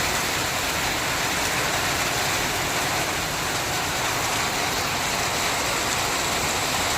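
Heavy rain pours down in a dense, continuous hiss, loud and unbroken, with no talking.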